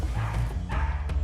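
A dog barks loudly and close at an SPCA animal shelter in South Africa: a quick burst of yips and barks mixed with a brief whimper.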